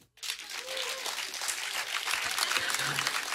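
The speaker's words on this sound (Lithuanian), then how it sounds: "aplodismentų jam" Audience applause at a live comedy show, a dense wash of clapping that swells and holds steady throughout, with faint voices underneath.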